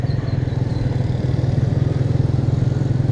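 A motorcycle engine fitted with a loud phat-phati aftermarket silencer idles or cruises with a rapid, throbbing exhaust putter, close and loud and steady throughout, with no talk.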